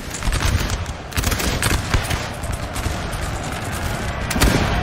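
Dense musket volleys crackle continuously from massed infantry lines with grenadiers in a Napoleonic battle game, overlapping shots forming a loud, unbroken rattle of gunfire with occasional heavier pops.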